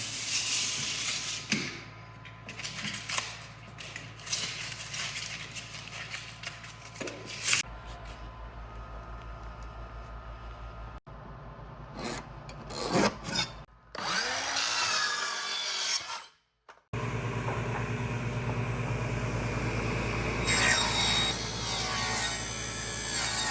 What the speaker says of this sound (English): now we're going to cut away all of the excess spray foam before we put our trim on